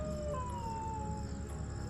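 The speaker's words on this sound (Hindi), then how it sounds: "अचानक फिर से कुत्ते रोने लगे" Dogs howl as a horror story sound effect, a long mournful wail slowly falling in pitch over a low, steady night-time background.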